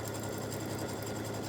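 A sewing machine fitted with a quarter-inch foot stitches forward and then backstitches along a placemat seam, its fast, steady mechanical whirr running close and continuous without talk.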